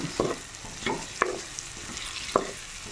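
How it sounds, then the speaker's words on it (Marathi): Chili powder, turmeric and salt frying in a pan are stirred with a spoon, giving a few distinct scraping strokes spaced about a second apart over a soft, steady sizzle. "थोडं तिखट फ्राय होईपर्यंत याला मिक्स करायचं"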